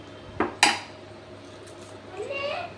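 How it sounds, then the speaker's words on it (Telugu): Eggs cracked against a pan and dropped into a finished curry, two sharp, close cracks in quick succession followed by softer kitchen noise. "పగలకొట్టి ఎగ్స్ వేసేస్తున్నాను"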